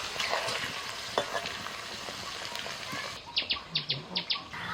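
Chicken frying slowly in a pan over low heat gives a steady, soft sizzle with occasional stirring clinks, and a run of bird chirps joins near the end.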